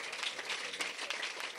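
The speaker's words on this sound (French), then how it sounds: "give a hand of clap to the Lord." Church congregation clapping, a brief, dense, even patter of many hands heard at moderate distance.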